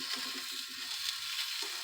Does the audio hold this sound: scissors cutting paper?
no